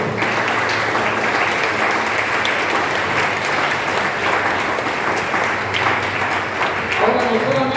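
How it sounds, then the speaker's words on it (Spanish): A church congregation at a Spanish-language service claps loudly and continuously, a dense sustained round of applause filling the room, with a voice speaking over it. "Denle fuerte el aplauso al Señor."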